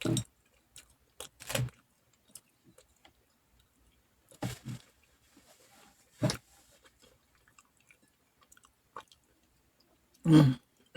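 Someone eating slices of pizza, with intermittent close, soft chewing and biting bursts separated by quiet pauses.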